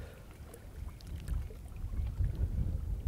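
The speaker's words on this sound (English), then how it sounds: "But the wind's very strong." Strong wind gusts across a lakeside fishing swim, buffeting the microphone with a low roaring rumble that builds louder over a few seconds, with faint water lapping beneath.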